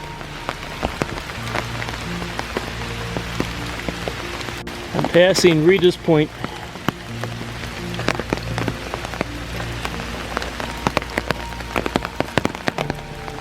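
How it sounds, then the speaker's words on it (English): Steady rain patters on surfaces all around in a park on a foggy morning, with scattered drops striking close by; someone speaks briefly partway through while hiking uphill. "This rain is not letting up."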